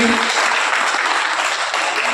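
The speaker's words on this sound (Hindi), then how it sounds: "जोरदार तालियों से भाई साहब का स्वागत करेंगे।" Loud, dense applause from an audience at a political party gathering welcoming a new member, close and continuous throughout, with faint voices mixed into the clapping.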